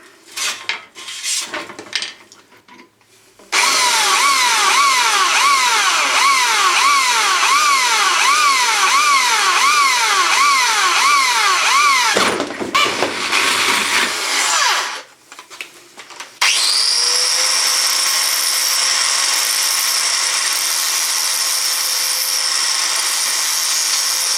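Drilling a hole through a Triumph motorcycle bash plate in a garage: a loud, sustained whining grind that wavers in pitch for about ten seconds, stops briefly, then returns as a steady high-pitched drone.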